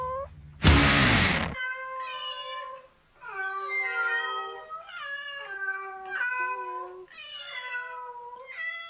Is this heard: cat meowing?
yes